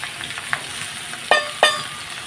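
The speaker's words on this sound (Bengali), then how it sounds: "সব একবারে ভাজা ভাজা করে নেবো।" Potatoes and onion fry in hot oil in a home kitchen, a low steady sizzle with a few sharp bursts of spattering near the end as pieces shift in the pan.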